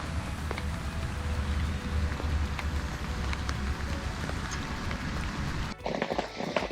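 Heavy rain falls at a dam lake during a July carp fishing session, a dense, steady patter on surfaces with scattered louder drops, dipping briefly near the end.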